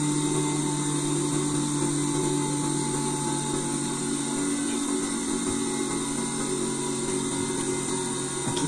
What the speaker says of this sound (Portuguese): Aqui também passamos overlock nas pernas e ao redor de toda a peça.